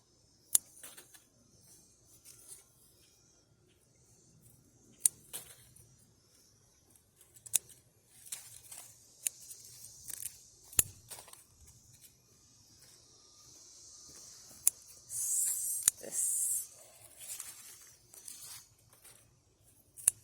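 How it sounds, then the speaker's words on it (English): Tomato plant leaves being cut off with scissors in a garden, sharp faint snips scattered irregularly through a quiet background, with a brief rustling burst of leaves near the end. "I just cut them off"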